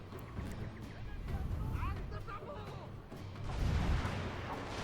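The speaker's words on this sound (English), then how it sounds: "now I'm getting some nice shots off with my red bears" Musket volleys in Shogun 2 Fall of the Samurai crackle faintly and far off as scattered gunfire and rumbling booms, with a few louder bursts toward the end.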